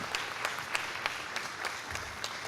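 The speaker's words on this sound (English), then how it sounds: "Can you give a round of applause?" An audience at an industry and youth networking event applauds a guest coming on stage, a steady wash of clapping with no voices that carries through without letting up.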